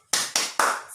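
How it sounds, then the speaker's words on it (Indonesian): A classroom of pupils claps a rhythmic clap chant in unison, three sharp, evenly spaced group claps close by, each ringing briefly, with no talk. "mari kita lakukan tepuk semangat bersama-sama ya"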